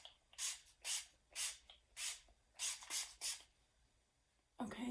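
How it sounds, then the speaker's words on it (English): Pacifica Crystal Dew setting spray fires in about eight sharp, forceful hissing bursts in a quick irregular rhythm, close and crisp, with a brief rustle at the end. "It's just a really aggressive spray, especially after the L'Oreal."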